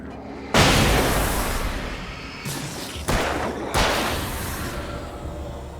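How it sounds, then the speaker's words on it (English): A flashbang grenade detonates in the video game Alan Wake with a sudden sharp bang, and a couple more abrupt blasts follow, each trailing into a long noisy decay. "Flashbang made that really easy."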